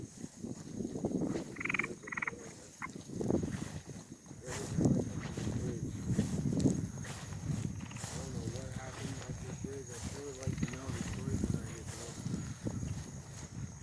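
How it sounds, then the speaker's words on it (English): Low, rhythmic croaking from a frog in a cemetery repeats in the background while people talk over it for most of the stretch. "Then you heard the frog after that"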